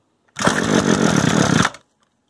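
A free Echo string trimmer's small two-stroke engine catches and roars loudly up close for over a second, buzzing steadily before cutting off abruptly, with no talk during the burst.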